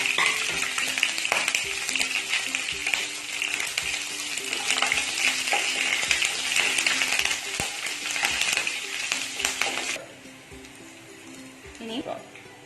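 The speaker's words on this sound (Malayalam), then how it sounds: "അതിലേക്ക് നമ്മൾ ചതച്ച വെളുത്തുള്ളി, 1 നുള്ളു ജീരകം, വറ്റൽമുളക് ഒക്കെ ഒന്ന് പൊട്ടിച്ചിടാം" Crushed garlic, a pinch of cumin, dried chilies and curry leaves sputter in hot oil for kappa thoran. A loud, crackling sizzle with popping bursts runs close and steady, then drops off sharply near the end, with a voice talking over it.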